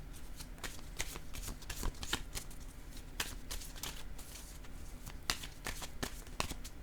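Oracle cards being shuffled by hand, a close, continuous run of crisp riffling flicks and soft slaps with no talk over it.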